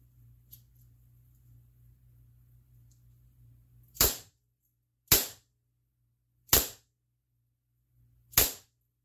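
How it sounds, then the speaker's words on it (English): A Crosman MK45 CO2-powered semi-auto BB air pistol fires four sharp, close pops spaced a second or more apart, each ending abruptly against an otherwise quiet background with a faint low hum before the first shot. "we'll shoot three rounds so you can see accuracy"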